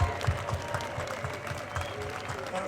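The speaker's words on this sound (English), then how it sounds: "So give yourselves a massive round of applause for standing up." Crowd applause at an outdoor anti-lockdown protest march in Birmingham, steady dense clapping with a murmur of voices mixed in, sustained throughout.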